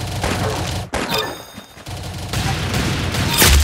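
Gunfire in the video game Arsenal, a dense loud burst of rapid shots, a brief drop to near silence, then another sustained volley ending in a sharp, heavy impact.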